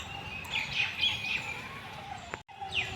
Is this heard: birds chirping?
yes